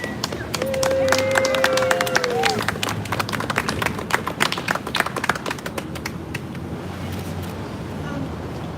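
Applause for a speaker at an outdoor protest outside the British Consulate in New York City, a crowd clapping steadily for several seconds before fading, with a passing vehicle's tone and street noise behind.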